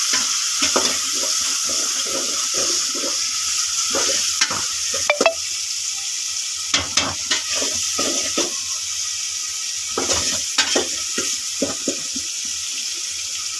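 A spoon scrapes and clinks around a pan as salt and spice mix are stirred into browned onion, garlic and tomato for an egg curry. The strokes come in uneven bursts over a steady low sizzle, with no talking.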